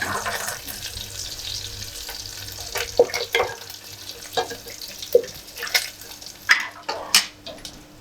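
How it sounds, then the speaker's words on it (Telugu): Dry fish and gongura leaves fry in a pan, a close sizzle punctuated by repeated scraping and stirring bursts, which grow busier toward the end. "కొంచెం వేపుకొని వేపుకుంటే ఇంకా కొంచెం టేస్ట్గా ఉంటుందని ఇలా చేస్తున్నాను"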